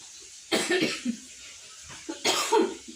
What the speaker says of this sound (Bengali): সরি, কেসে ফেলছি, মানে কাশিটা না খুব খুকে কাশি, কেমন চেপে রাখা যাচ্ছে না